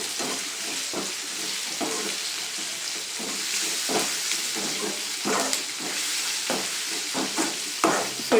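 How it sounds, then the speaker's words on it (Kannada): Tomato masala with poppy seeds, clove and cinnamon sizzles and fries in a pan, with a steady hiss broken by repeated scraping stir strokes. Nobody talks. "ಇದನ್ನು ಉರಿಯೋದಕ್ಕೆ ಹಾಕ್ಕೋಬೇಕು ನಾವು. ಸೊ ನೀಟ್ಗೆ ಮಿಕ್ಸ್ ಮಾಡ್ಕೊಳ್ಳಿ."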